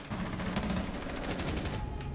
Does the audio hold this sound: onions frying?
no